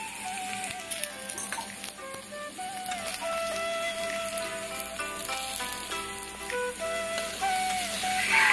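An egg fries on a roti in a hot pan for a homemade egg roll, with a steady sizzle and crackle that swells slightly toward the end, no voices.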